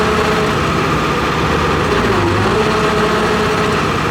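The diesel engine of a 245G excavator with a smoky, over-fueling number 3 injector runs steadily at a constant loud rumble, close by and unchanging.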